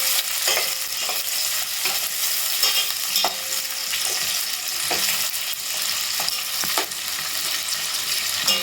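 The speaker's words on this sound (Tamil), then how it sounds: "அதில் வெண்டைக்காயை வெண்டைக்காய் எண்ணெயில் அப்படியே ஃப்ரை ஆகும்" Okra frying in hot oil in a pan, a steady bright sizzle running throughout with occasional soft stirring scrapes, close and continuous with no talk.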